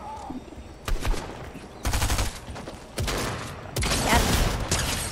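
Bursts of rapid gunfire from a video game battle crackle in loud, dense volleys separated by short pauses, growing heavier toward the end.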